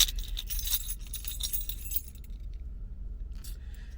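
A bunch of keys with a tracking tag attached jangles and clinks in quick metallic bursts, fairly close and busy at first, then thinning to a few lighter rattles near the end, with no one talking.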